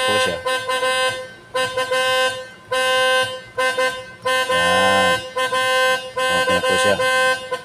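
A 2019 MG ZS car horn with a broken chirp sounds in a series of harsh, sustained blasts with short gaps between them, loud and close, with one wavering tone in the middle.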